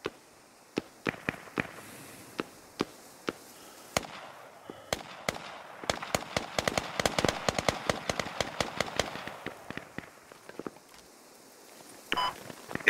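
Gunfire in the military shooter game Squad: scattered single shots, then a dense rapid volley of sharp cracks, fairly distant and with no talk.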